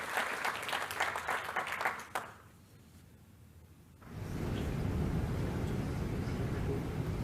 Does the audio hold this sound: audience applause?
yes